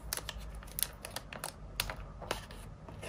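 Tear tab pulled on a MacBook Air M1 box during unboxing, heard as a run of quiet, sharp crinkling snaps and ticks spread irregularly across a few seconds, close up, with no voices.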